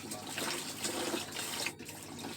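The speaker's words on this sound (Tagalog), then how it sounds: "Lagyan mo na ng tubig." Water pours in a steady, soft splashing stream, continuous for the whole moment with a brief dip near the end.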